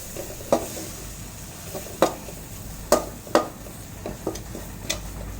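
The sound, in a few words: mixing soya chaap masala in a pan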